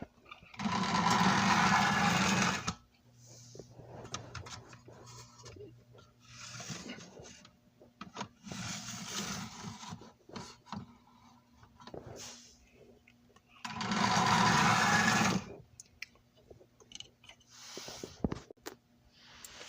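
A boxed-up Marx Kansas City Southern three-piece toy train, engine with B unit and caboose, runs on a small test track, its rasping, whirring motor rising in three loud bursts with quieter clattering between.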